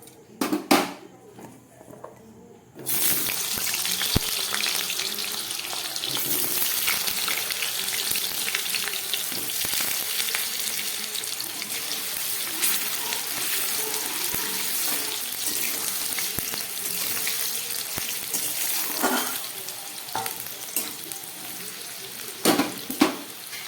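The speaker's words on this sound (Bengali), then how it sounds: "একদম প্রথমে আমি এই গরম তেলের মধ্যে আলুগুলোকে ভালো করে ভেজে নেব।" Small cut potato pieces frying in hot oil make a dense, continuous sizzle that starts abruptly after a few quiet seconds, with a few clinks near the start and end.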